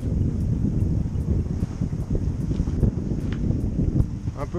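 Wind buffeting across the microphone aboard a sailboat on the Mediterranean, a steady broadband rush with gusty swells and faint periodic clicks, continuous throughout.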